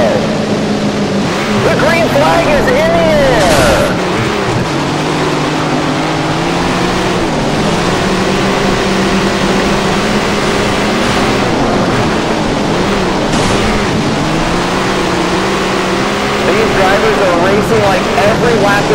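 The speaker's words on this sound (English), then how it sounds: "Listen to those engines as we get ready to go." Race car engines roar in the Tony Stewart's All-American Racing video game before the start, a loud, continuous drone with shifting pitch under a commentator's voice.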